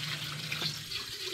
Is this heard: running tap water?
yes